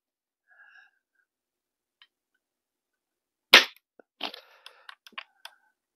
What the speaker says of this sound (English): Let me just shoot the spinning target